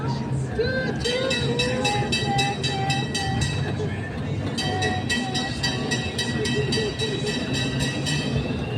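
A passing train rumbles with a steady rhythmic clatter of wheels over rail joints, heard up close while adults and someone talk over it.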